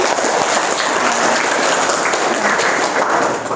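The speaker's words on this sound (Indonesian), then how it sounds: "Tepuk tangan dulu atuh" A group of students in a school lesson gives a loud, dense round of applause that stays even and sustained for a few seconds.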